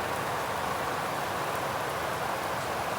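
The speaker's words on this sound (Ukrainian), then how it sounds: "А тут вже дощ іде." Steady rain falls outdoors over a tomato garden, a soft even hiss of drops that stays constant and faint throughout, with no voices.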